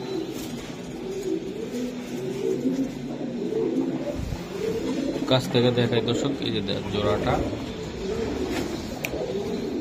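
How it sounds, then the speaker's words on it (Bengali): Bahama Chila pigeons, a pair in a cage, coo repeatedly in low rolling calls close by, while someone talks over them. "এটা আপনার বাহামা চিলা, বাহামা চিলা কবুতর ভাই"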